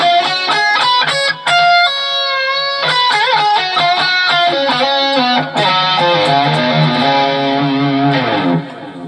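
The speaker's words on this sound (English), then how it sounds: "the melodic minor would kind of sound like this" A guitar runs up and down the D melodic minor scale with a processed, effects-laden tone, in a steady flow of clear notes that carry on alone for the whole passage.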